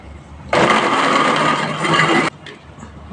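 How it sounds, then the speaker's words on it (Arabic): An electric kitchen blender whirs steadily for about two seconds, mixing a cooked cornstarch mixture, then cuts off abruptly, leaving quiet room sound. "هلا بنشغل الخلاط"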